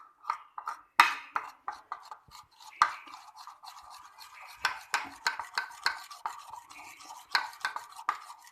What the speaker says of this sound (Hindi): अच्छी तरह मिक्स कर लूँगी ना